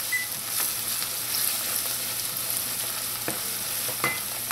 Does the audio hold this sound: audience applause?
no